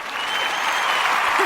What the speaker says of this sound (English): we will clap us out